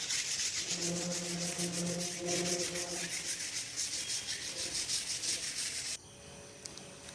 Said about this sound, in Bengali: এইভাবে আমরা ঘষে নিচ্ছি খুব সুন্দরভাবে আমাদের দেওয়ালটিকে ঘষে চুকচুকি করে ফেলছে